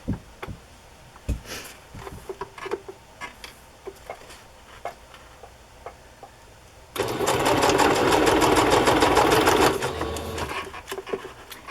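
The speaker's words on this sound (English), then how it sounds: "I put brown thread in my sewing machine" A sewing machine runs in a loud, steady burst of rapid stitching through a doily with brown thread for about three seconds, preceded by quieter handling clicks and taps.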